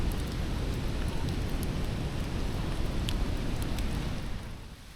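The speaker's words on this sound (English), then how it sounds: "we did not know it would rain this much" Heavy rain pours steadily during a mountain hike on Hakusan in Japan, a dense, loud wash of drumming drops with some wind buffeting, continuous throughout and easing slightly at the end.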